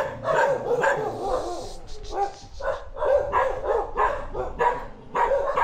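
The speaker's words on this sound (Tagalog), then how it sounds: "daming aso dito sa loob" Several dogs bark repeatedly inside a yard at a rural house in Isabela, with overlapping, fairly close yaps and woofs coming in steady bursts.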